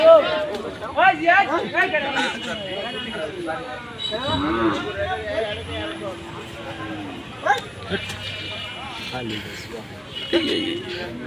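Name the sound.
native cattle mooing at a cattle market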